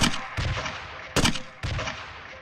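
A grenade launcher in Block Fortress booms four times in quick, uneven succession, each a loud, close blast with a short rumbling tail, and no voices.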